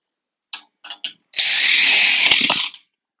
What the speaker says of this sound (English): we always run 2 of the 3/4 inch screws into the L brackets